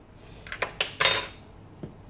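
A few light clicks and a sharper snapping crack of a metal spoon prying open a plastic Dettol liquid soap dispenser, close up and quiet, with no talking.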